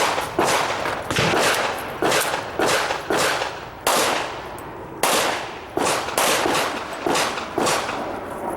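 Gunshots ring out at an IDPA pistol match stage at an outdoor club range, with about fifteen sharp, loud reports. They come in quick pairs and short strings, each followed by a brief echo.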